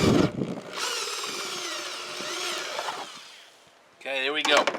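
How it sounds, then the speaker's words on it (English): A power drill whines steadily through a plastic tub for a few seconds, rising and falling in pitch, then stops and briefly starts again. "I'm going to mark and drill a hole in this tub"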